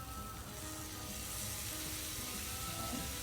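Chopped tomatoes tipped into a hot pan of tossed onions for restaurant-style paneer bhurji, giving a steady, loud sizzle and frying hiss that holds evenly from start to finish with no talking.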